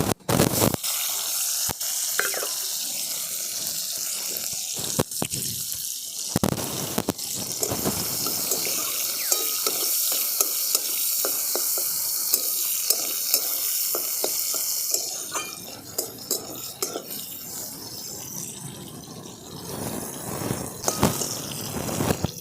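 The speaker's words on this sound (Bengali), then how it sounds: "টমেটোটা ভাজা হতে থাক" Chopped tomatoes fry in hot oil with nigella seeds in a wok, making a loud, continuous sizzle close by. A long series of quick scraping taps comes from a utensil stirring, and the texture shifts toward the end. No one speaks.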